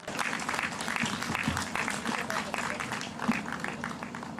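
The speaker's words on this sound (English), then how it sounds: "So, big clap for Dr." Audience applause at a building inauguration ceremony for a health research centre in Gorakhpur, a steady wash of clapping from a gathered crowd, moderately loud throughout with some voices mixed in.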